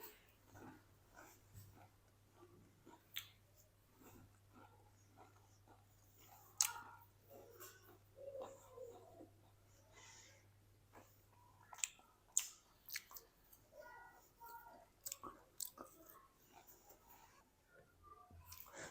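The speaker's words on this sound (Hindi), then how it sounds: "इसको हम खा के चेक करते हैं।" Crispy, flaky homemade potato and semolina snacks are bitten and chewed close up, with scattered sharp crunches and softer chewing over a faint hum.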